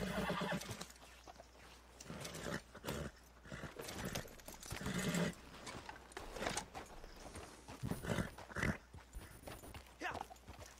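Horse in the Red Dead Redemption 2 Online video game, with hoof clip-clops and whinnies coming in irregular bursts, close up, while a voice talks at times.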